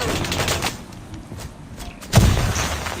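Rapid gunfire bursts in a tactical shooter video game match, loud and dense, with a heavier burst near the end.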